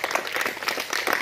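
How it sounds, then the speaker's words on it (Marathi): A school audience at an International Yoga Day event applauds to welcome a student. A brief burst of even, moderately loud crowd clapping plays with no talking over it. "ही विद्यार्थिनीचं आपण टाळ्या वाजवून सहर्ष स्वागत करूया"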